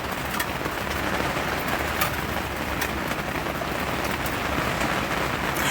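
Steady rain falls outside, a dense continuous patter close by, with faint bird calls and pigeon coos mixed in.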